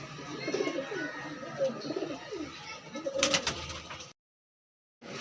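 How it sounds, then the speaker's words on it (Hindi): Desi Kalpota pigeons coo in repeated soft rolling calls, close by, with someone talking over them before the sound cuts out briefly. "कलपोटा कबूतर है भाई, देसी"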